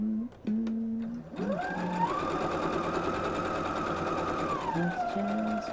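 A sewing machine stitches quilt pieces, its motor whine climbing as it speeds up, holding a steady rapid run, then winding down, with a few short tonal sounds before and after.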